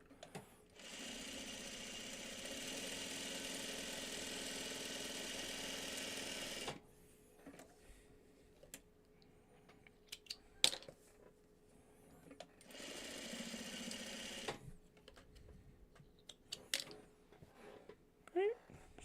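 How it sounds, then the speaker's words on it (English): Sewing machine stitching a seam on a farmer's wife quilt block, a steady continuous whir running for several seconds, then stopping, with a second shorter burst later amid quiet handling noises. "We'll sew down the other side."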